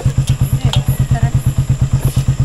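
A Suzuki Raider motorcycle with a fuel-injected engine idles through its exhaust pipe, a loud, even chugging pulse that repeats rapidly and steadily, with faint clatter above it.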